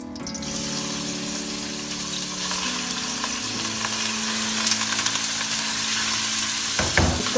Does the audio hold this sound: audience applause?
no